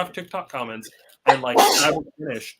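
A person sneezes once in a sudden burst midway through, surrounded by close talk before and after.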